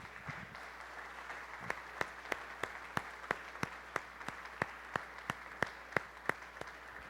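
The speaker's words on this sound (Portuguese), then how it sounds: "dessem um aplauso para as mulheres" At a church family celebration service, the men of the congregation clap for the women: faint, slow, evenly spaced claps ring out one by one in a steady rhythm over a quiet room hum.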